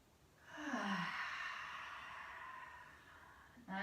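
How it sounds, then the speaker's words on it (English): A single slow, deep breath drawn in and let out audibly during a beginner's yoga stretch, close and soft, followed by the start of another breath. "Nice full deep breaths today."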